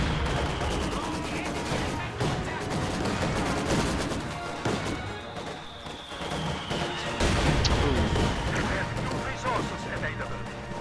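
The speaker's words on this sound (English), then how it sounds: "Oh no, he's getting counter mortared." Mortar rounds in the Company of Heroes 2 strategy game hit in a battle, with repeated heavy blasts and crashing impacts amid clattering gunfire, while a commentator talks over the din.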